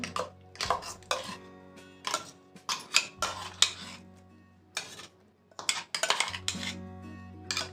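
Ground chutney is spooned from a grinder jar into a bowl, with a steady run of close metallic scrapes, taps and clinks of spoon against steel, some ringing briefly, and no talking.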